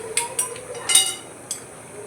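A metal spoon scrapes and clinks against a pan of stuffed brinjal curry topped with chopped coriander, a few soft distinct taps over a quiet kitchen background.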